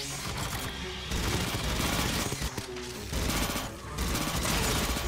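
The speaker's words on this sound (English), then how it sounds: "Why the heck is this one turret shooting the ground for?" Sustained automatic turret gunfire in Aliens: Fireteam Elite, loud dense bursts pounding continuously with brief gaps, heard alone without talk.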